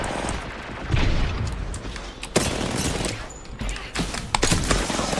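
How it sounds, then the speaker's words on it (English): An airstrike in the Apex Legends video game brings dense, loud bursts of explosions and rapid gunfire, with sharp booms standing out over a continuous roar of battle and no talk. "Watch it, airstrike."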